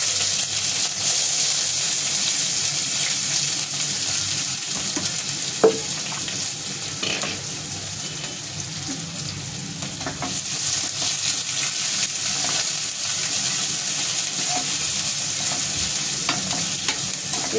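Finely chopped onions fry in a pan with a constant, dense sizzle, occasional soft stirring scrapes and a single sharp tap, close and steady for the whole stretch.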